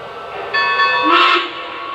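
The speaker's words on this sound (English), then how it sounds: "You'll be notified that the locomotive has entered sequence control by 2 bells and a whistle" American Flyer Y3 model locomotive sounding a steady electronic whistle chord after a soft start, a clear tone lasting about a second before fading into a low hum, without talk.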